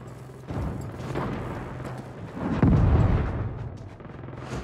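A cannon fires in the Saints Row video game amid chaotic action: heavy, rumbling booms swell and fade across the clip, loud and dense, with no voices.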